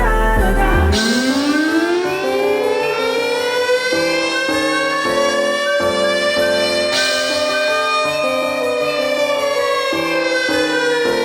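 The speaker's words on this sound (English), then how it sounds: "He hears the siren" A loud, sustained emergency siren wails steadily for about eleven seconds, its pitch rising and stepping through repeating tones, close and alone with no voices.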